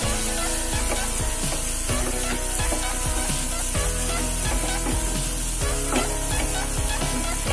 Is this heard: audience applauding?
no